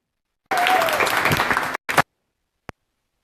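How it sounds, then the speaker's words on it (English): An audience applauds to welcome Joyce, a University of Wisconsin-Madison education and business speaker, at a Denver LinkedIn talk. The loud, dense clapping runs for just over a second, stops abruptly, comes back in a short burst, and ends with one faint clap. "With a rousing applause,"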